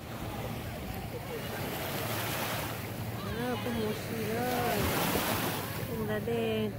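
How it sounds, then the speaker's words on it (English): Ocean surf rolls in steadily at Clearwater Beach near Tampa, Florida, a continuous broad wash mixed with wind buffeting the microphone, while a person talks over it. "Look behind me. There's a big beach."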